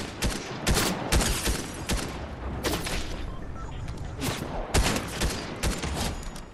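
Gunfire in a video game while sniping at a bot, a string of sharp irregular shots and cracks, loud and close, with rumbling noise between them.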